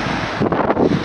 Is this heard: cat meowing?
no